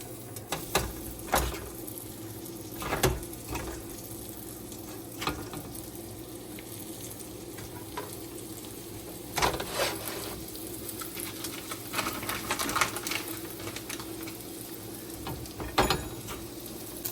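Chicken cutlets sizzling and frying in a pan over medium heat, a steady crackle with occasional louder pops and scraping clatters, close and fairly quiet.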